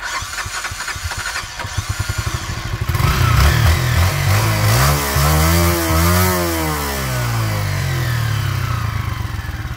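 A motorcycle with its original exhaust idles with a steady putter, then revs up loudly several times, rising and falling in pitch, close by.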